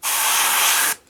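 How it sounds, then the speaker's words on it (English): A single short burst of spray paint from an airbrush or can onto a 1/72 scale Harkonnen Ornithopter model kit, a loud close hiss lasting under a second that cuts off sharply. "I'm spraying that over the highlights, or the raised parts"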